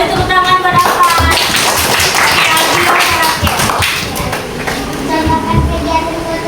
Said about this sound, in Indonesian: Betul, beri tepuk tangan buat Alvan